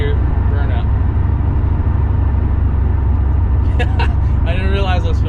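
Car doing a burnout while rolling in third gear, fitted with a single turbo or an LSA supercharger: a loud, steady, continuous engine roar with heavy low rumble throughout, plus brief sharper bursts near the end.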